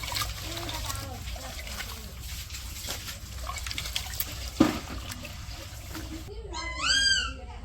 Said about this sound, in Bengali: এই যে কচু আর আলুগুলো ধুয়ে নিতেছে।